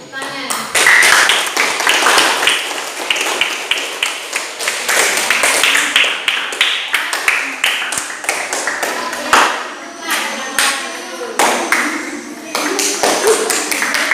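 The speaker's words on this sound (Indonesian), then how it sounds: "tepuk tangan" A small audience clapping hands in a school setting, a loose scatter of individual claps that swells and thins, with occasional voices underneath.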